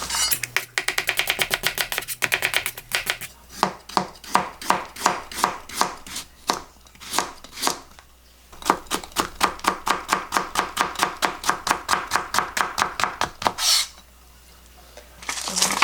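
A knife chops green onions in a fast, even run of crisp taps on a board, continuous and close, with a short pause partway and a brief break near the end.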